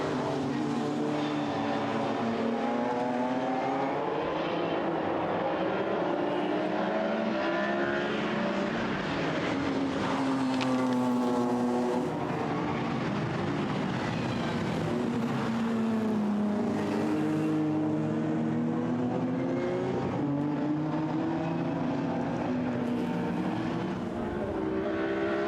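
BMW 325i and BMW M3 GTR race cars at Zandvoort sweep past the line late in a DMV BMW Challenge race, a continuous loud roar of engines rising and falling as several cars pass in close succession.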